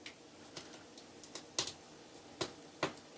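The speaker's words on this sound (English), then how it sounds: "I am in the process of peeling my potatoes now" Potatoes being peeled: a series of short, crisp scraping strokes at an irregular pace, close by and fairly quiet.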